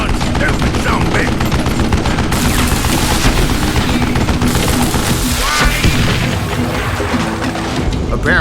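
Dense, continuous gunfire from the Western shooter Call of Juarez Gunslinger, rapid overlapping shots and crashes filling the whole stretch at loud, close range, with a voice talking underneath.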